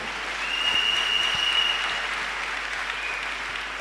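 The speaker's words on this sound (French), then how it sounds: "Clap your hands for them" A church congregation applauds with dense, sustained clapping that holds steady for the whole stretch, loud and close, with no voices over it.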